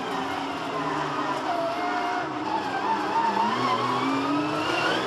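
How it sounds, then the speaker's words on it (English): A Porsche Cup race car at a circuit locks up a tyre and runs off at turn 6, engine notes rising and falling at a distance with a faint squeal, under a commentator's continuous talk. "So just locked up a tyre and just run off on his own."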